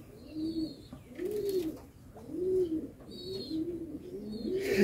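Racing pigeons coo in steady repeated phrases, about five rolling coos over a few seconds, close and moderately loud, with faint chirps from other birds around them in a loft.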